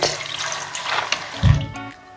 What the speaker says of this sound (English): And then roll it as you run it under the water as well